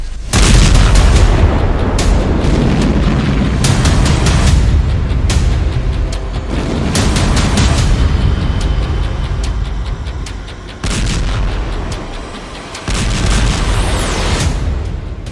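Heavy explosions from army bombardment in Gaza boom repeatedly over a dense, loud rumble, with sharp blasts and cracks spread unevenly through the stretch.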